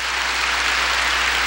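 A church congregation bursts into applause during a worship service, a dense, even wash of clapping held at steady loudness throughout the brief moment.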